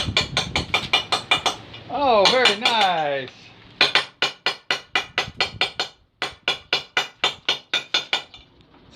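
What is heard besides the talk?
hammer and chisel on marble headstone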